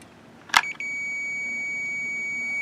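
A multimeter on continuity gives a single sharp click followed by a steady, sustained electronic tone while checking from the fuse's positive side to ground on a Seadoo GTX 657.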